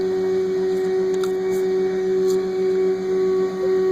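A 3D printer homes its axes, its extruder motors giving a steady mechanical hum with faint whirring steps and a few brief ticks, close and continuous with no talk.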